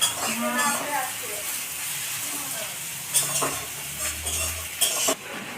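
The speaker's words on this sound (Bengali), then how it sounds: "গোটা গরম মশলার সাথে যখন পেঁয়াজ ভাজা হয়" Onions sizzling with whole garam masala in a pan for mutton curry, a steady fry under a person's talk, with a few sharp utensil scrapes and knocks near the end.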